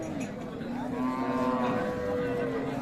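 A cow with a calf, offered for sale, moos in a long, drawn-out low call that rises and sustains for a couple of seconds, close and loud against a murmur of background noise.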